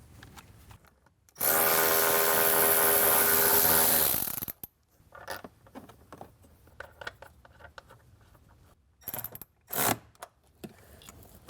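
A ratchet tightens a 10 mm bolt to land a ground wire on a Jeep Wrangler amplifier, with a long steady burst of noise followed by a series of irregular clicks and clacks close by.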